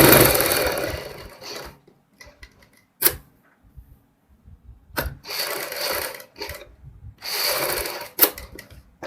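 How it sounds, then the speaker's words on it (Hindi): Sewing machine stitching buckram onto a band strip for a sherwani-style suit, running in several short bursts of rapid whirring separated by quiet pauses and small handling clicks. "बुकरम के साथ साथ हम इसी तरीके से पूरी बैन पट्टी पे सिलाई लगाएंगे।"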